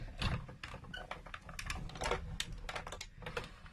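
Big Shot die-cutting machine being hand-cranked to pass a die for a spring card-making project, heard up close as a steady run of rapid clicking and ratcheting mechanical ticks.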